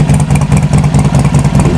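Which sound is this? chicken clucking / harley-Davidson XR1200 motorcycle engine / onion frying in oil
harley-Davidson XR1200 motorcycle engine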